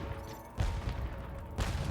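Cannon firing in Spyro Reignited Trilogy, two heavy booming blasts about a second apart over a constant game background hum.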